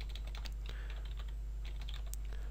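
Fingers type on a computer keyboard in quick irregular bursts of clicky keystrokes, close and fairly soft over a steady low hum, with no voices.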